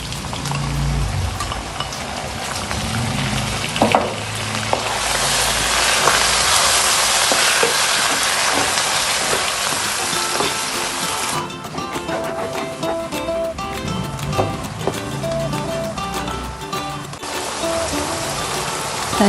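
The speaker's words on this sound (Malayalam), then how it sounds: "തൈര് ചേർത്ത് കൊടുത്ത ശേഷം നമ്മളിത് ഹൈ ഫ്ലെയിമിലിട്ട് നന്നായി ഇളക്കി തൈരിലുള്ള വെള്ളമൊക്കെ വറ്റിച്ചെടുക്കണം" Chicken with yogurt and ginger garlic paste sizzles hard in a pan over high flame for pulao, a loud continuous frying hiss broken by scraping stirs, with no voices.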